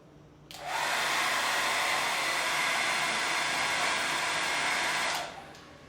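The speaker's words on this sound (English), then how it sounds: "Now let's try a hair dryer on high." A hair dryer running on high, powered from a Jackery Explorer 1500 power station, switching on to a loud, steady rushing whoosh that holds for several seconds before cutting off.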